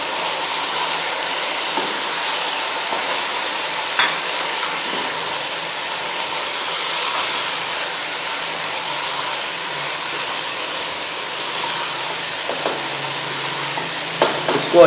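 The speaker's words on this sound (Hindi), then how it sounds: "इसको एक बार अच्छे से मिक्स कर देंगे।" Vegetables for Chinese rice being stir-fried in a pan, a loud, bright, continuous frying hiss with occasional utensil scrapes and taps as the mix is tossed, with no voices.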